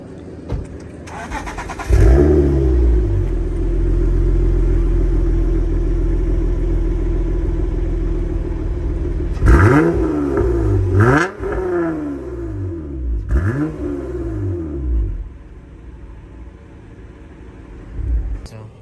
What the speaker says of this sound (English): Let's do a startup so we can listen to it.